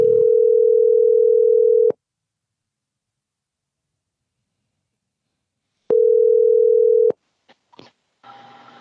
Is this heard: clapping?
no